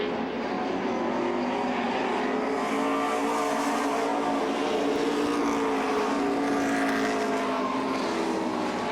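Race cars roaring around the asphalt oval at the 2003 Oxford 250, a loud continuous engine drone with layered passing cars strung out single file, steady and dense throughout.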